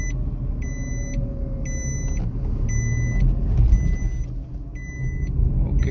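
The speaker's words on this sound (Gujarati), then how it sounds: "તમને સસ્પેન્શન માટે અહીંયા દેખાડી દઉં સ્પીડ બ્રેકર ઉપર." A 2023 Maruti Suzuki WagonR VXi (O) petrol hatchback rolls over a speed breaker, giving a low cabin rumble with a slight swell midway, while a regular electronic beep repeats throughout; nobody speaks.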